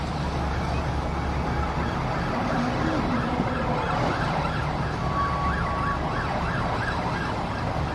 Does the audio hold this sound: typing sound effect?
no